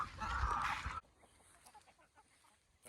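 A rooster on a small one-acre homestead farm gives a loud, close burst of crowing and clucking, then goes quiet, leaving a few faint clucks from the flock.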